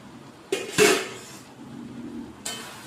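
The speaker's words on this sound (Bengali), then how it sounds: "কষিয়ে নেবার পরে এবার চাপাটা খুলে" The lid coming off a pot of Bengali mutton curry: a sharp metallic clank followed by a ringing scrape, then a second lighter clink near the end, close and loud.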